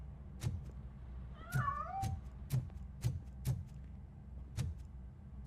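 A cat hiding inside a piano in the video game RoboCop: Rogue City gives one short, rising meow, surrounded by a steady series of sharp ticking clicks over a low background hum.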